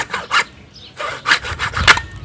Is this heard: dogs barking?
no